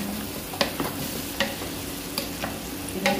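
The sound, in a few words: potatoes, carrot and zucchini frying for salona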